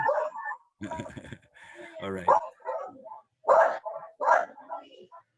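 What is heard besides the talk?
dog barking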